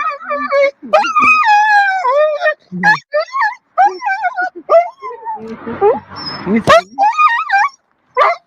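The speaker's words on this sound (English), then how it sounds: "He's a happy dog." A dog in a played-back recording barks, yips and whimpers in a close, high, wavering run of cries, mixed with overlapping human voices and a brief burst of noise near the middle.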